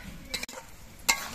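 Snakehead fish kalia is sautéed in a pan over low heat, a faint sizzle broken by two quick scraping knocks of a spatula against the pan.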